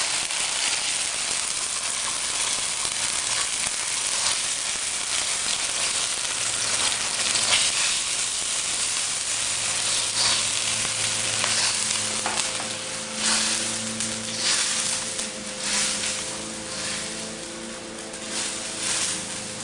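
Coconut milk sizzles steadily in a hot pan with shallots for Panang curry, a loud, continuous frying hiss with faint stirring and a low hum, and no one talking.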